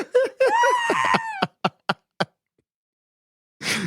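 A voice imitates an ostrich call with a strained, warbling honk followed by a few short clipped clucks, then silence before a brief breathy burst, close and loud.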